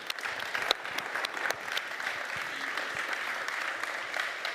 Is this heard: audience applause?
yes